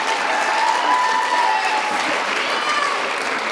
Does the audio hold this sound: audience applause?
yes